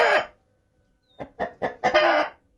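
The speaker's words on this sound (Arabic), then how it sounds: "الديك بيعمل صوت خايف على فراخه" A rooster guarding his hens gives a short loud squawk, then after a pause a run of sharp, rising clucking calls, close by.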